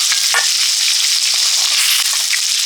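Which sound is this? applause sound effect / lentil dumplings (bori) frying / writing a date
lentil dumplings (bori) frying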